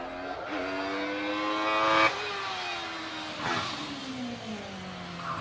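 A Caterham 7 race car powers up the Harewood hillclimb course, its engine loud and close, revving hard with gear changes that reset the pitch, which then falls steadily as it pulls away; no one speaks.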